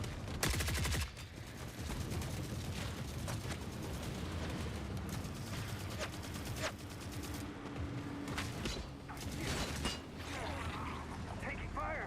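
Gunfire in The Forever Winter plays as sharp, rapid shots and bursts over a dense, continuous mechanical clatter and rumble. The shots are loudest at the start and recur irregularly throughout, mixed with creaking machinery.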